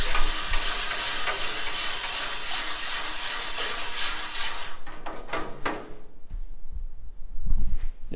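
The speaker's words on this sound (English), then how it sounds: "I'm just gonna give it a quick stir." Hot liquid in a sugar house evaporator pan gets a quick stir: a loud, close, continuous sloshing scrape over a hissing boil that fades to quieter bubbling near the end.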